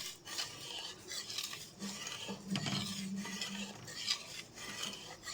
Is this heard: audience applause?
no